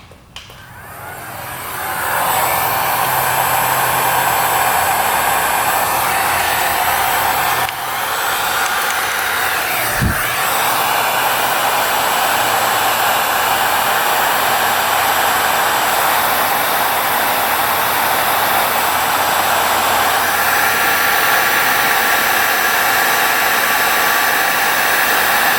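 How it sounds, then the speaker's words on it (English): A heat gun runs at full blast during motorcycle wiring work on a soldered connector. It starts with a click and then keeps up a loud, steady blowing hiss for about twenty-five seconds, with no talk. "Heat gun on."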